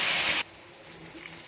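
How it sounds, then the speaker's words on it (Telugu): Water poured into a pan of boiled cabbage curry with chilli powder: a loud rushing hiss for under half a second, then quieter simmering sizzle afterwards. "కొంచెం వాటర్ పోసుకుంటాము."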